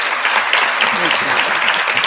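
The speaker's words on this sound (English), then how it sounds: "Give a round of applause for this amazing panel" Audience applause for a panel at a leadership symposium and grants showcase, a steady dense wash of clapping held at an even level with some voices mixed in.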